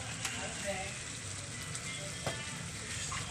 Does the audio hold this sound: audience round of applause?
no